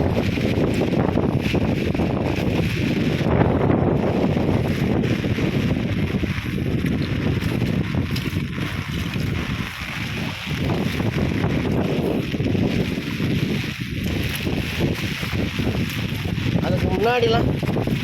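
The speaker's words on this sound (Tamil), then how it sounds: "ஐயோ காற்று வேறு பயங்கரமாக அடிக்குது." Strong wind roars steadily into the microphone at a lake during heavy rain, a dense rumbling buffeting that persists throughout with a faint voice buried underneath.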